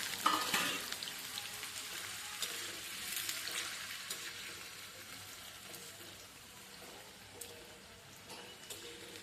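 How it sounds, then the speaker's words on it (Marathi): Potatoes frying on high flame, a soft continuous hiss like light rain that fades slightly, with an occasional faint tap and no speech. "हेही मोठ्या गॅसवर आपल्याला फ्राय करून घ्यायचे आहे"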